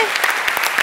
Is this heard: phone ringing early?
no